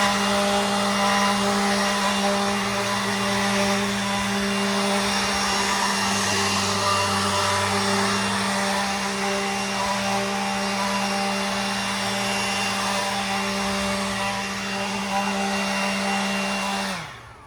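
A leaf blower runs steadily and loud for about seventeen seconds, clearing debris off a deck beside a pool in a garden, its engine drone holding constant before cutting off abruptly at the end.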